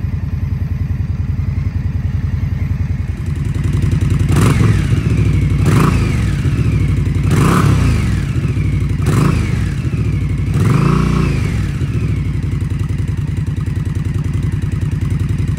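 A 2023 Indian Scout Rogue V-twin motorcycle idles close by, then its exhaust is revved in five sharp blips that rise and fall, loud and clattery, with no talking.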